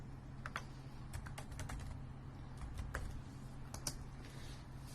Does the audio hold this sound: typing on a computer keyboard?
yes